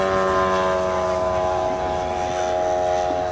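A 1/3-scale model Spitfire's engine drones steadily overhead with a sustained tonal whine, while a voice talks over it.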